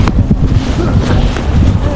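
Wind blows at a desert dune bay resort with sand and swings, buffeting the microphone with loud, low rumbling gusts that stay fairly steady throughout.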